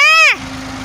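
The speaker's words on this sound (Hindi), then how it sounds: "ये मेरा छोटा भाई ट्रैक्टर चला के जा रहा है" A tractor driven by a younger boy: a brief falling tonal whine gives way to a steady, close engine drone that holds to the end.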